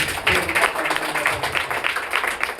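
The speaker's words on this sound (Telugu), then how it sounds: "గట్టిగా చప్పట్లు కొట్టి" A church congregation at a Sunday service claps loudly, a dense, steady burst of many hands that fills the room for a couple of seconds with little talk over it.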